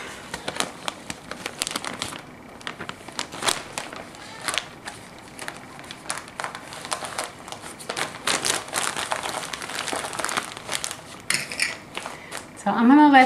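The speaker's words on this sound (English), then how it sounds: "I'm gonna go ahead and I'm gonna wrap this in plastic" Plastic wrap crinkles and rustles continuously around hair freshly dyed with Kool-Aid, a close, busy crackling with short bursts and no talking.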